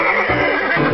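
A horse brought to a blacksmith's for shoeing lets out a loud, close whinny that rises and wavers for about a second, with no talking.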